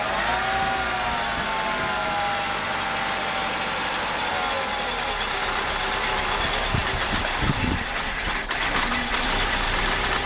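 A Mercedes M104 engine idles unevenly, its speed hunting up and down as if close to stalling, steady and fairly loud from near the car.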